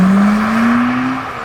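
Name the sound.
Smart #1 Brabus accelerating hard in BRABUS mode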